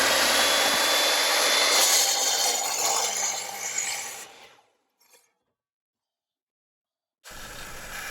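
A saw cuts through wood with a loud, steady rasping whir for several seconds, then stops abruptly into near silence before noise resumes.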